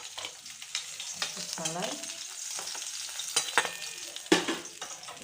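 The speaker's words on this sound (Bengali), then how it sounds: "এবার মাছগুলি ভেজে তুলে রাখলাম" Fish pieces frying in hot oil for a rohu fish curry, a steady sizzle with occasional stirring clatter and bursts of spatter, close up, with a brief spoken word.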